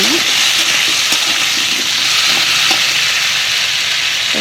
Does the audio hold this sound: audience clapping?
no